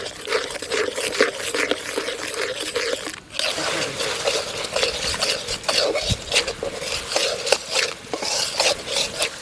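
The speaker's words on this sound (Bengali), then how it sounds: "এবার মশলাটা ভালো করে কষিয়ে নেব।" Spice paste of chilli powder, turmeric and salt frying in a pan for Bengali fish curry, with steady close scraping and stirring strokes over a soft sizzle and one brief pause.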